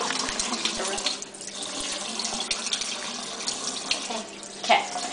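Tap water runs steadily into a sink as a raw chicken is rinsed clean, a continuous splashing hiss that carries on throughout with a few brief surges.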